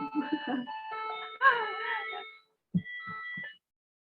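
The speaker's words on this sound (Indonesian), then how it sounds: "Sorry, ada alarm." An electronic alarm plays a tinkling, tune-like melody for about two seconds during an indoor election-committee talk session, followed by a few soft tapping knocks. The sound is fairly quiet and heard alone, with no talking over it.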